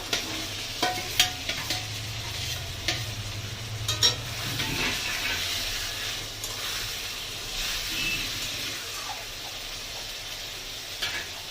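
Fried bogo fish pieces go into sizzling masala in a pan and are stirred, with a steady frying hiss broken by several sharper clatters and scrapes early on, close and moderately loud.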